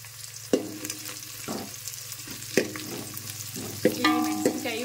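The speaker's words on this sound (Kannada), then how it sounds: "ಈ ಮೆಣಸಿನ್ಕಾಯಿ ಉಳ್ಳಾಗಡ್ಡಿ ಕೊರ್ಬೇವ ಇನ್ನೊಂದು ಸ್ವಲ್ಪ ಫ್ರೈ ಆಗಬೇಕು" Dried chillies, onion and curry leaves fry in hot oil with a steady sizzle, broken by several sharp scraping stirs of a spoon against the pan; no one speaks.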